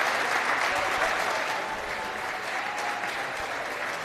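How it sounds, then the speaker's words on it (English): An audience claps for a female politician, a loud, dense, continuous round of applause from a large crowd that holds steady from start to finish. "They're clapping her."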